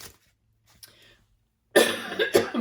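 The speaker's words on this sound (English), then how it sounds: "I'm coughing" A single harsh cough bursts out close by after a brief quiet moment and a faint breath.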